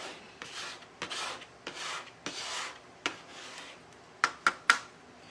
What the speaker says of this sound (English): So this paste scraper just pushes all of that paste up